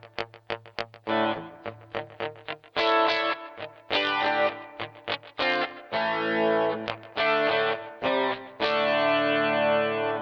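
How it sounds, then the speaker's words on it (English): Electric guitar notes through an MXR Rockman X100 pedal's multi-tap delay ring out with layered repeating echoes trailing each phrase, the repeats smearing into a wash of reverb-like sustain. "it goes into what's really a multi-tap delay, which acts like a kind of a primitive analog reverb."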